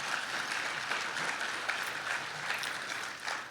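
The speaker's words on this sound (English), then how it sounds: "I want you all to give yourselves a round of applause." A seated audience claps for themselves at a post-lunch event, a steady, dense wash of applause filling the room for the whole stretch with no break in the sound.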